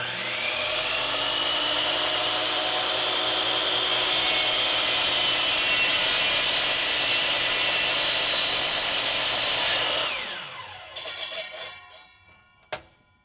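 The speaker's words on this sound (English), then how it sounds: "To start off, this is how you properly use a miter saw." Miter saw slicing through a wood workpiece with a loud, steady whine for about ten seconds, then spinning down, followed by a few faint clicks and knocks.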